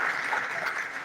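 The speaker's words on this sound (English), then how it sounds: "I'm happy that you are clapping from your heart" A seated audience at an actuarial science advocacy event claps for a speaker just introduced, a brief, even wash of applause heard from a little distance.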